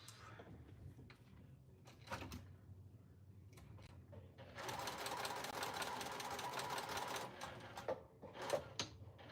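A sewing machine stitches fabric in a fast, steady run of several seconds, preceded by handling clatter and a few clunks and followed by more of them, faint and nearby.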